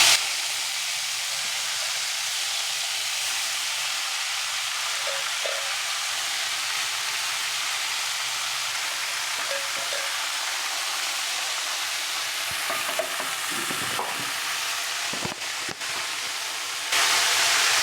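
Spinach greens sizzling in hot oil with fried chopped garlic, a steady soft hiss of frying with a few faint clinks and stirring scrapes near the end, no talking.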